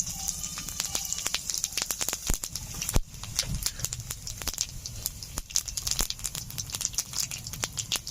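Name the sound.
dried chilli and whole cumin sizzling in hot mustard oil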